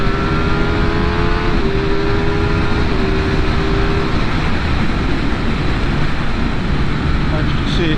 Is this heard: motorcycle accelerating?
yes